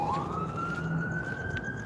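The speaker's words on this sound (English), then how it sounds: "We're going to walk towards the sirens" An emergency vehicle siren wails at a moderate distance, one rising tone that climbs and holds over a steady background of traffic.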